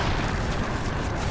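Loud, sustained rumbling blast from an explosion in the strategy board game Root played online, a dense roar filling the whole moment without a break.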